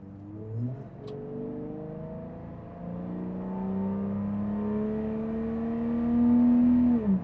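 Nissan Patrol Y61 engine fitted with a new cold air intake, its induction note rising and holding through a steady rev, with a smooth climbing drone and no talking.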